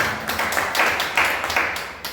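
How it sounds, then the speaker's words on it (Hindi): An audience at a Hindi church gathering claps together in a short burst of rhythmic, fairly close applause lasting about two seconds. "राजेंद्र भाई के लिए तालियां।"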